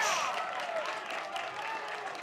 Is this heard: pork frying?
no